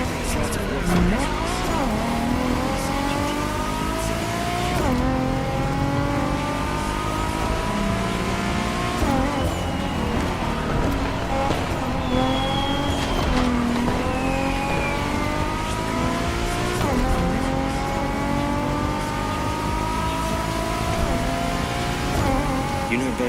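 Nissan GT-R wearing a heavy Bosozoku-style body kit races in The Crew Motorfest, its engine revving and shifting through repeated rising pitch sweeps, with tires squealing, loud and continuous under occasional talk.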